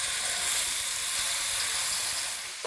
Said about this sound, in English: I'm going to add 3 tablespoons of vegetable oil. Medium heat. Add the paste.